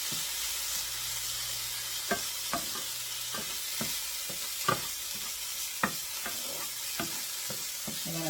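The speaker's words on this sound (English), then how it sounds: "So we'll let those cook, then we'll add the minced garlic." Onion and minced garlic fry in a pan with a steady broadband sizzle, while a spoon scrapes and taps against the pan a dozen or so times at an uneven pace, close up and with no talking.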